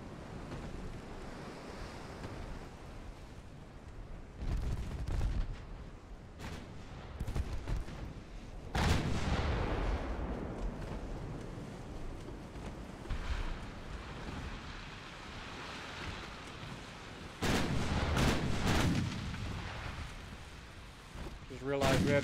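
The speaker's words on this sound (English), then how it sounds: "We hit two different ships with that volley." A naval gun volley booms out in a battleship game, with several heavy blasts arriving in clusters and rumbling tails over a steady bed of wind and sea wash.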